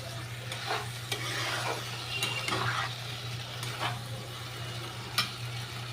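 Mustard paste fries softly in a pan for okra and potato chorchori, a low, steady sizzle broken by several sharp clicks and scrapes of a spoon stirring against the metal.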